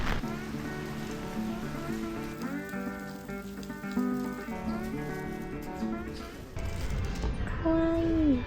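Heavy rain pours steadily on the outside of a vehicle during a wet morning drive through Namie, Fukushima, a dense continuous hiss of drops drumming on the surface, with music playing over it and a voice speaking briefly near the end.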